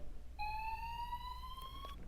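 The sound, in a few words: fire alarm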